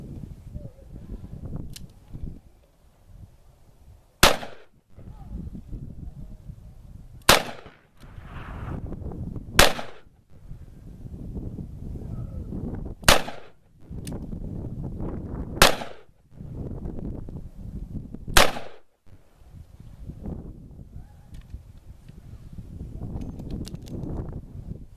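Smith & Wesson Model 19 Combat Magnum .357 Magnum revolver fired at a zombie target: seven sharp, loud shots spaced a few seconds apart in single and double action, with low rustling and handling noise between them.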